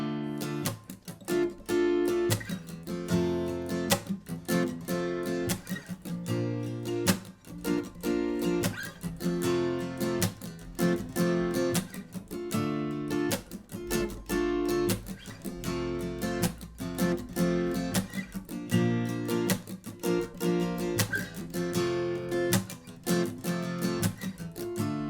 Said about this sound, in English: those muted strums, I'm sort of just having my fingers on the strings, but I'm not pushing down, but I'm still getting this sort of muted sound